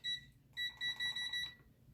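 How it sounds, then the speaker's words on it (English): Kitchen oven timer being set, giving a series of bright electronic beeps: one short beep, a pause, then a run of rapid repeated beeps close by, with no talking. "Let me set my timer."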